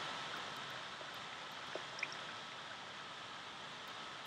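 Steady, faint wash of flowing water in Minecraft, draining away as a continuous hiss with a couple of tiny clicks, and no one speaking.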